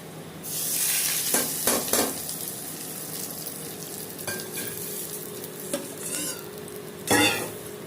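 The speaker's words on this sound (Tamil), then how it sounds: "நம்ம வந்து வடவும் போட்டு தாளிக்கிறோம்" Spices and vadagam crackle and sizzle in hot oil during tempering for millet idli, with a few sharp metal scrapes and taps of a spoon against the pan, close by.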